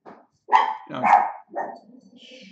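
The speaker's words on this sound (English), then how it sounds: "maybe there's my dog again" A dog barks close by, about three sharp loud barks in quick succession, followed by a faint whine. No one speaks over it.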